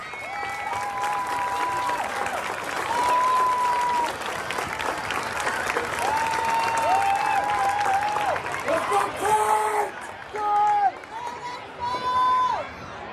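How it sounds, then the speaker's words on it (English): Audience applause and cheering at a youth sports league closing ceremony, a steady crowd roar lasting throughout with whoops and shouts rising over it and a voice talking on top. "Please stand for a round of applause."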